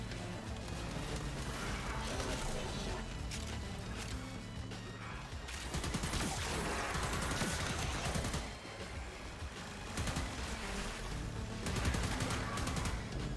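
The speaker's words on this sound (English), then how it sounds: "Just gonna shoot around him every now and then." Dense, sustained gunfire from the video game Warframe, rapid bursts and volleys layered with mechanical clatter and crashing impacts under a steady game soundtrack, loud throughout with several sharp swells.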